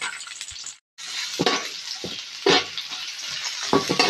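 Dried shrimp frying in a pan gives a steady close sizzle with stirring scrapes and light clinks. It stops briefly and then picks up again, with no talking.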